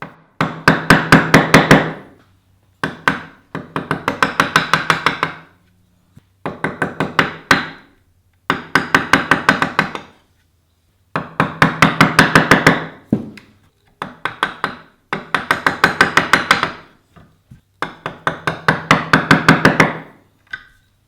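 Chisel driven into a wooden mortise to square its corners, heard as bursts of rapid close taps and knocks, about eight clusters separated by short silences, loud and alone without speech.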